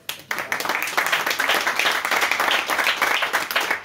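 Sustained clapping from a conference audience at a literary event about crime novels, starting abruptly after a brief quiet moment and holding a thick, even roar of many hands near the listener for the rest of the stretch.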